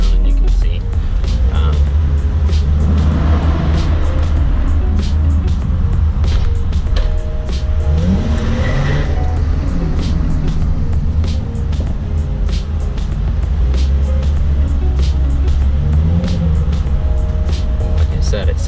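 Nissan 350Z engine running, a loud steady low rumble with occasional swells in revs, heard from inside the car with broadband road noise and a voice talking over it.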